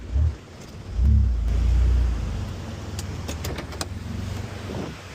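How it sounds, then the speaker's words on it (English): A work truck's engine rumbles low and close as it pulls up, with a heavy surge of revving followed by a steady idle and a few light clicks. "I'll pull the truck up."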